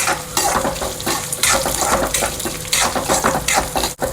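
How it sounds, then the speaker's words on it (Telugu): Coriander seeds, cumin and fenugreek sizzle in hot oil over a medium flame, a close, steady crackle broken by the scrape and clink of a spoon stirring the pan. "ఇది ఒక 2 మినిట్స్ ఫ్రై చేసుకుందాం"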